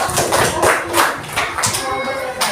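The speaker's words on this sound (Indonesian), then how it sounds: "Tepuk tangan buat kawanan dulu." Classroom applause for classmates, a short burst of uneven clapping from a group of students, with a few voices mixed in.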